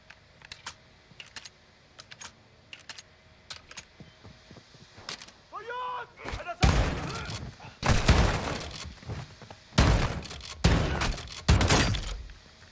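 Shotgun blasts in a video game. Faint clicks and a brief chirping sound give way to several loud, booming shots in clusters over the second half, with brief voices mixed in.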